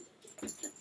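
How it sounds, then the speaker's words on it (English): A dog gives two short, soft whimpers close by, with faint rustling and no talk. "There's one of the dogs."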